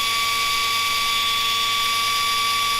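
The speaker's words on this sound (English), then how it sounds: "Just had to sand the inside of them a little bit." Sanding the inside of small bushings with a high-speed rotary tool gives a loud, steady, high-pitched whine that runs unbroken for about three seconds before cutting off.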